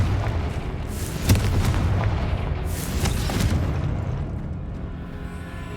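The Confringo blasting spell goes off as a booming explosion in the Hogwarts Legacy video game, with a sharp crack followed by a rumbling roar that gradually fades. Softer bursts trail after it, and there is no talking.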